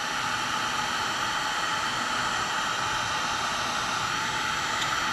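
A heat gun blows steadily at close range to shrink sheathing on a Porsche 914 injector wiring connector. The loud, even airflow hiss and fan rush continue without a break.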